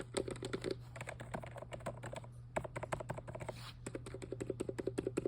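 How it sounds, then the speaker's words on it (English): Keys on a Hexagon MIDI keyboard click in steady runs of soft, rapid taps, first with the standard switches and then with the premium switches, alone and up close. "I'll show you a little clip comparing the standard and premium switches"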